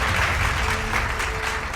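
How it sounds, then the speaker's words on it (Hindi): Enthusiastic audience applause at a televised awards and honours stage event, heard as loud, continuous crowd clapping that fills the entire short stretch. "एक बार जोरदार तालियां हो जाए"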